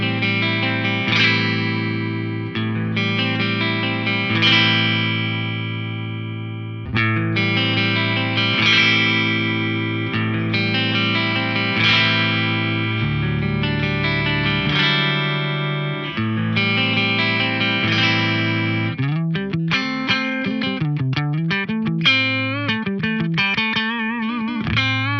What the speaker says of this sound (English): I'll play you a chord and arpeggiate it, and then I'll kick the compressor in.